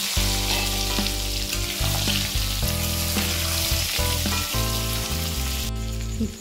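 Potatoes fry and sizzle loudly and continuously in a pan with Kashmiri red chili, a dense steady hiss with a few shifts as the pieces settle.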